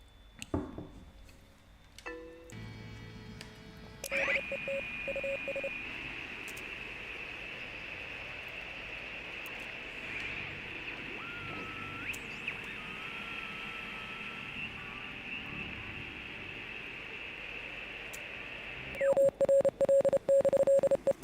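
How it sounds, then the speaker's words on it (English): A steady, Morse code-like radio signal from the video game Oxenfree: a sustained electronic tone over hiss, with clusters of rapid beeping pulses at the start and end, moderately loud with no talking. "That sounds like Morse code."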